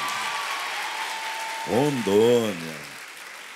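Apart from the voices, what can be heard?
audience applause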